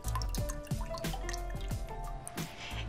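Water dripping and trickling into a plastic plant pot of African violets, filling above the drainage holes, with a run of distinct, fairly close drops at an uneven rhythm.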